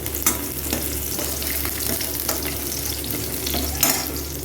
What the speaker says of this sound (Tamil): எண்ணெய் நல்லா காஞ்சிருச்சு பூண்டு போட்டுக்கலாம் பூண்டு நல்லா வணங்கட்டும்